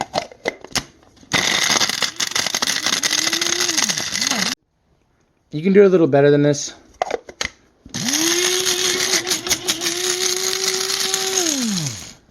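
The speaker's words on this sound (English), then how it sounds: "you're going to need to stick them in the coffee grinder" A loud mechanical whirring coffee grinder grinds dried turkey tail mushrooms in two long bursts, separated by a pause where a person briefly speaks.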